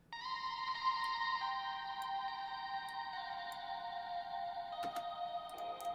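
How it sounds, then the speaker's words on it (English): Guitar drenched in Valhalla Shimmer reverb at a 100% wet mix, forming a faint, sustained shimmering wash of high, overlapping tones with small ticking accents, soft and alone. "uses Valhalla Shimmer reverb again to kind of create that ambience"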